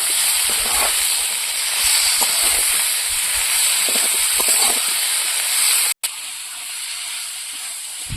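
Pieces of kundri (ivy gourd) fry in hot oil with turmeric, giving a loud, steady broadband sizzle and hiss with scattered pops, cut by a brief dropout before it continues slightly quieter.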